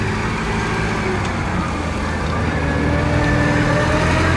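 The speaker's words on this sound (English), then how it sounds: "This is a forklift Nissan model PH02A25." A 2003 Nissan PH02A25V propane forklift with cushion tires idles steadily up close, its engine giving a constant low rumble with no breaks.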